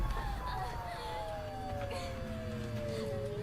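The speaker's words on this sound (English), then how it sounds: "Police sirens." A wailing police siren from Silent Hill f sweeps downward in pitch over a rumbling background, loud and continuous, like an emergency vehicle passing close by.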